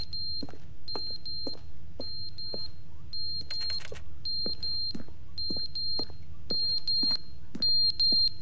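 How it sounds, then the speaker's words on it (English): An alarm beeps in the video game The Stanley Parable, repeating as bursts of shrill electronic tones in a steady pattern over a low background hum, with no voices. "What is that alarm?"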